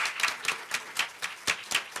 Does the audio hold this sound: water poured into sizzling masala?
no